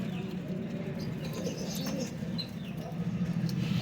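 Pigeons coo in a loft under a thatched shelter, low repeated coos over a steady background hum with a few faint higher chirps.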